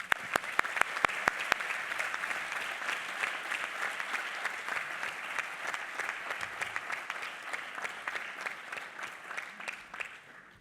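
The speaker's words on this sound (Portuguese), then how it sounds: "E por isso, um forte aplauso ao Eduardo por isso." An audience applauds architect Eduardo Souto de Moura at a Portuguese architecture talk after his UIA gold medal is mentioned, opening with a few sharp isolated claps before settling into steady, moderately quiet clapping that holds for about ten seconds.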